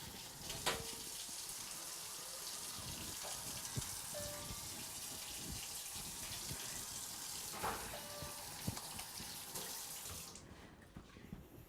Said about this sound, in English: Before we handle the food, though, we do need to go and wash our hands.